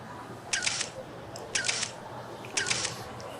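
Redmi Note 13 Pro phone camera taking selfies, three crisp synthetic shutter clicks spaced about a second apart over a quiet room background.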